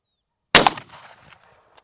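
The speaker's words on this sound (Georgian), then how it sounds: "20 მეტრა. გასროლა." A single sharp gunshot fired at a 20-metre shooting range cracks loudly after a half-second of silence, followed by a short decaying echo and a faint click near the end.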